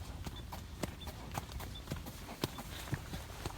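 Horse hooves clip-clop in a steady walking rhythm while a horse is ridden outdoors after rain, with crisp close hoof strikes and no talking.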